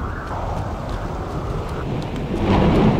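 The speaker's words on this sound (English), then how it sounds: "We shouldn't be out in a storm like this by ourselves," Thunderstorm with rain in a horror video game, a steady wash of wind and rain with a low rumble swelling louder toward the end.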